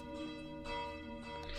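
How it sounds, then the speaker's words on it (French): Church bells peal repeatedly through a town as an alarm, a steady ringing with sustained overlapping tones at moderate loudness and no talk over them. "vous continuez à entendre que les cloches, elles, sonnent de plus en plus"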